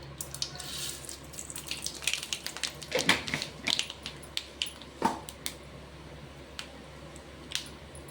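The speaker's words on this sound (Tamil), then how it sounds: "கடுகு பொரிட்டோம்" Mustard seeds popping in hot groundnut oil in a home Tamil kitchen, a scatter of sharp crackles and spits with a busier burst in the middle, close and fairly quiet, with no talking.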